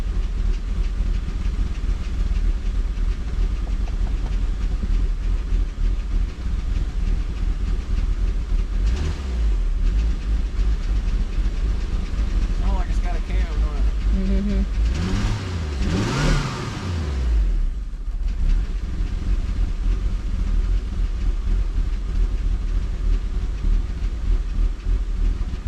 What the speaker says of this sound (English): I've never heard a clutch sound like that.